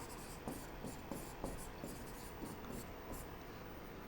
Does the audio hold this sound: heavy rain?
no